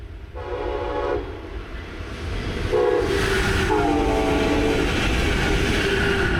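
A Brightline high-speed passenger train roars past close by at Malabar Road, Brevard County, loud and continuous, with a rumbling rush and tonal horn-like bands rising over the noise.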